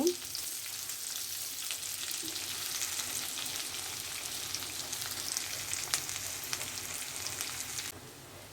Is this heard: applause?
no